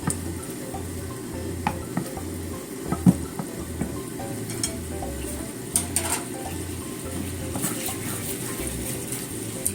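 Sweet potato pieces are stirred in a pan of bubbling, thickened sugar syrup, giving a steady soft sizzle and bubbling with scattered scraping clicks of the stirring utensil. The sound is close and continuous, and nobody speaks.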